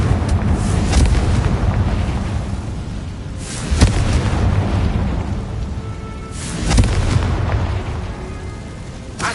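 Bombarda and Confringo spells detonate in a Harry Potter video game: loud, rumbling booming blasts roll continuously, swelling with sharp impacts around a few moments, dense and close, with no speech.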